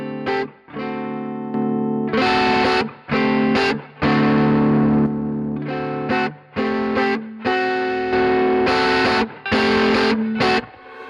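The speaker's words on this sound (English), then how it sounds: "So it's going to be full distortion or the overdrive sound." Heavily distorted electric guitar through an Origin Effects RevivalDRIVE pedal at full distortion plays chopped, sustained chords with short gaps between them, loud and close with no talking.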